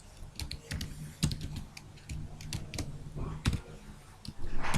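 Someone types C code on a computer keyboard, producing quick, uneven bursts of close, fairly quiet key clicks with short pauses between them.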